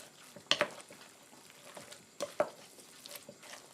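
A spoon scrapes and stirs through wet dumpling filling in a bowl, soft squelching and clinking strokes coming in irregular bursts, faint and close.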